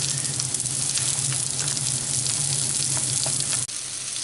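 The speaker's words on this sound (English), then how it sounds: "So I'm starting to turn the fish cakes over now, very, very carefully." Salmon fishcakes made with raw salmon sizzling and crackling steadily in a frying pan, a close, continuous fry that briefly drops at one point as if the pan is moved.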